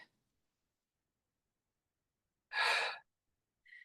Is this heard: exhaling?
yes